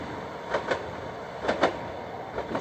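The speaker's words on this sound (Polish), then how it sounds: "Taki stukot, nawet jak się jedzie, to też go słychać." Train at the Warszawa Reduta Ordona station rolling over the rails, giving paired clickety-clack wheel knocks in a regular rhythm over a steady low rumble, fairly close and with no voices.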